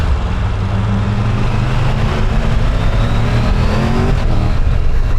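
A Triumph Tiger 1200 GT Explorer motorcycle engine accelerates under way, a loud close steady roar with rising pitch and wind rush and no talk.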